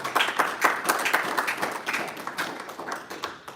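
An audience applauds two legislators, a senator and a representative, at a legislative forum, with sparse, uneven claps close by that thin out and fade over a few seconds.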